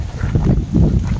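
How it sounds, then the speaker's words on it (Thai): Low, gusty wind from an approaching typhoon buffets the microphone in a continuous rumbling rush, rising and falling over a brief moment. "ลมเริ่มมานะครับ"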